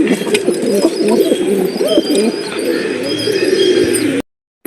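Pigeons in a loft coo steadily in soft overlapping rolling calls, close and fairly loud, with a few faint chirps, no talk.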